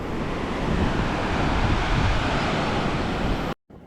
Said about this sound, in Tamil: இது கொஞ்சம் பெரிய அலை தான்.